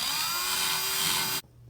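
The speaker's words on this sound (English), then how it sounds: "I can't find my Dremel, so just got a tiny drill bit right here" A tiny drill bit enlarging a hole in a Pfister shower valve part gives a steady, loud, high whine for over a second before cutting off abruptly, leaving a faint hum.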